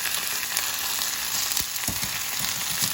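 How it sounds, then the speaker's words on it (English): Grits bubble and cook in a pot on the stove with a steady hissing simmer, a few soft thumps and scrapes as a spoon stirs them, close and moderately loud with no speech. "So as this cooks, the grits are cooking good. I'm just gonna give them another stir."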